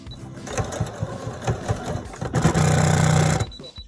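Sewing machine, a mother's household model, driven through thick layered seams of garment fabric, running in rapid rhythmic bursts with a sustained strained hum near the end, loud and close, with faint talk in the background.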